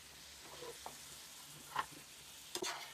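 Fried chicken is stirred into a thick bhuna masala in a pan. There is a faint, low sizzle and a couple of soft scraping clinks of a spoon.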